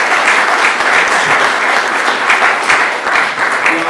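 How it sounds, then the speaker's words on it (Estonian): An audience applauds for Ulli in a hall, a dense, steady patter of many hands clapping close by, sustained for several seconds without a break. "Ja aplaus Ullile!"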